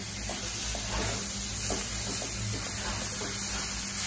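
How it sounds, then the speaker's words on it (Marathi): Chopped dry fruits are stirred into a thick modak barfi mixture in a hot pan, with a continuous soft sizzling hiss broken by repeated scraping strokes of the spoon. "ड्रायफ्रुट्स आपण कट करून ठेवले ना ते टाकून घेऊया। मिक्स करून घेऊया।"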